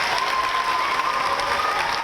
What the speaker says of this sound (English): Applause replaced the sound of bells Friday morning at Daphne Elementary School